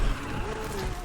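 Chevy Colorado ZR2 drifting on a racing track in Need for Speed Unbound: a brief burst of engine roar with a rising-falling tire squeal, close and loud.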